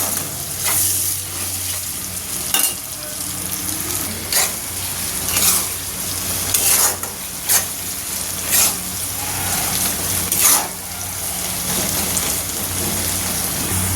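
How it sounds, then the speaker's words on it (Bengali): Onions stirred and fried in a pan for Bengali chicken kasha: a constant strong sizzle broken by about a dozen sharp clacks of the spatula against the pan at irregular intervals, close up, with no talking. "পেঁয়াজগুলো যতক্ষণ না লাল লাল হবে ততক্ষণ আমি নাড়তে থাকবো।"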